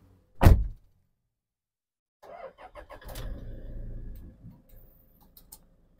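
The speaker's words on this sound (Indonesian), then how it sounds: "kita nyalakan mesinnya teman-teman biar tahu kilometernya mobil ini berapa ya" A car door thuds shut, then after a pause the engine cranks with a few rapid starter clicks and catches into a low idle rumble that fades down, close by with no talk.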